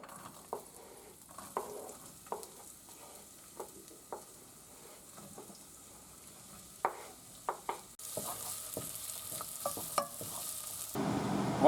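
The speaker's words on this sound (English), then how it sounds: "add the onion and start sauteing" Onion sauteing in hot oil for chicken katsu curry, a quiet sizzle broken by regular taps and scrapes of stirring, then a louder, fuller hiss near the end.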